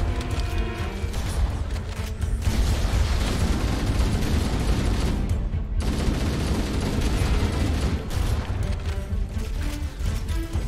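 A frag grenade bursts amid sustained gunfire in Halo CE on the Library level, a dense, loud wall of shots and blasts with a brief dip midway.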